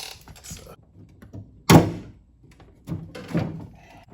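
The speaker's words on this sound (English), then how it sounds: "pull the handle off." A Honda Element interior door handle is popped off its snap clip, giving one sharp plastic thunk up close, followed a second later by softer clicks and rattles as the part is worked free. No one speaks.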